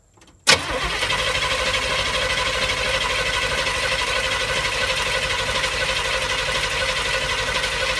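A Z20 car engine catches after near silence with a sharp onset, then runs in a loud, steady rapid whir and chatter close by for several seconds, with no talking.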